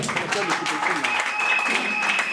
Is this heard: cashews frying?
no